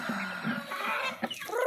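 Pet chickens cluck close by in a quick run of short, throaty calls, ending in a longer rising squawk.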